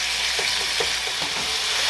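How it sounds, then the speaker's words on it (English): Steak pieces for beef stroganoff searing in a hot pan, a loud continuous sizzle and crackle up close, with faint stirring scrapes and no talk. "my steak has gotten pretty well seared on one side"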